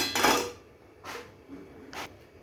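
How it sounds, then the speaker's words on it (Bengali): A karahi wok set down onto a stove gives three separate metallic clunks and knocks, one heavier and two lighter, close by with no talk. "এখানে আমি একটা কড়াই নিয়েছি কড়াইটা গেছে চাপিয়ে দেব"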